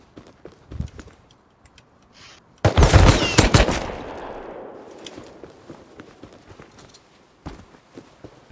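Automatic machine-gun fire from an M249 in the survival game Rust: a loud, dense burst of rapid shots lasting about a second, then a decaying rumble and scattered quieter footsteps and impacts.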